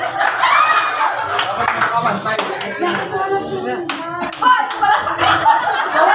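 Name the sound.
audience clapping at a church Christmas party game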